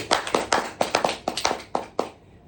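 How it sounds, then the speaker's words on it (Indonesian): A small group claps for a newcomer at a therapy session: about a dozen separate, uneven hand claps over a couple of seconds, fairly close, with no talk over them. "tepuk tangan dulu untuk orang barunya Bapak Ibu"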